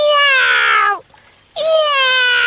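A stuck kitten gives two long, loud, high-pitched meows close by, each about a second long and separated by a brief pause.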